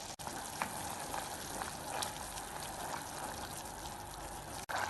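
Sugar syrup for gujiya boils in a pan on the stove, giving a steady, even bubbling hiss with faint crackles that runs without a break and with no voices.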